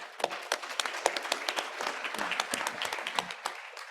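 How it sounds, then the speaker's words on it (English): Audience applause for the panelists closing an action research plenary session, a dense patter of many hands clapping at moderate loudness for the whole stretch. "let's give our panelists a round of applause"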